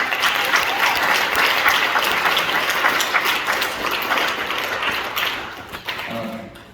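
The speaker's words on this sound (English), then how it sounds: "can we give our God a hand clap of praise?" An audience claps in praise of God at a National Honor Society induction gathering, giving dense, steady applause that holds for several seconds and then thins out near the end.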